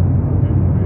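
Steady low cabin drone of a small passenger plane in flight, a loud, continuous rumble filling the space with no breaks.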